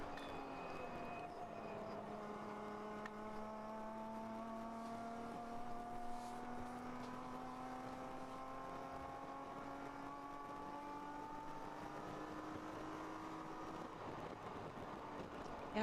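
Mazda Miata and BMW race cars in a 24-hour endurance race at Nelson Ledges, heard from on board as a steady engine drone climbs in pitch through the gears, with wind noise and no talking.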